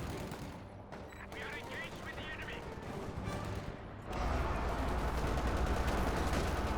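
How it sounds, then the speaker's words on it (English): Sniper shots and rattling small-arms gunfire from a Company of Heroes 2 battle, dense and continuous, with the volley growing heavier and louder toward the end. "Sniper fires away."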